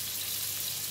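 Salted fish and garlic fry together in a pan, giving a brief, even sizzling hiss heard up close without any voices.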